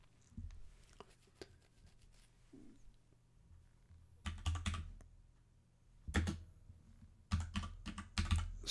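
Keystrokes on a computer keyboard as commands are entered in a terminal: a few scattered taps, then three quick bursts of clustered typing, close and clear in a quiet room.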